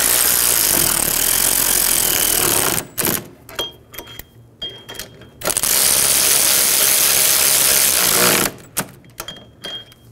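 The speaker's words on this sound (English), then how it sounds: "go around and snug them down" Ratchet tightening wheel bearing bolts on a 2007-2011 Toyota Camry, two loud bursts of rapid metallic clicking, each several seconds long, separated by quieter pauses with faint handling noises.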